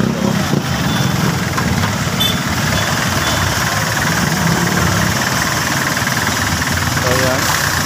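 A kuliglig motorized cart from Manila runs with its small engine chugging in a steady, rough knocking rhythm, close and loud, with someone talking over it at times.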